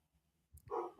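Dogs barking far off, short faint yips and woofs rising briefly out of a quiet outdoor background, distant and soft throughout.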